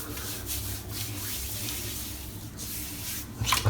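Grooming Department shaving cream being rubbed by hand over a head before a razor shave: a steady, close, moist rubbing and swishing that runs throughout, growing a little louder near the end, with no talk.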